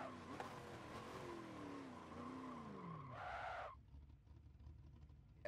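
Tires skidding under locked braking in a racing video game, a continuous screeching squeal over engine whine that drops in pitch as the car slows, ending in a brief harsh burst before fading.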